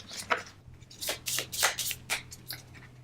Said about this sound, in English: Shuffle the remaining animal folk cards together to form the market deck.